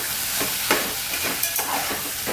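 Cauliflower, peas, green beans and potato are stir-fried in a pan for veg pulao. A close, constant sizzle is punctuated by several soft stirring scrapes.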